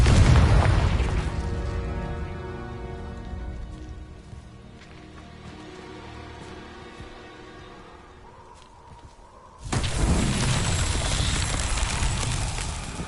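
In Hogwarts Legacy, a Confringo fire spell lands with a loud booming blast that fades into a quieter rumble, then a second burst erupts into a sustained, roaring fiery rush near the end.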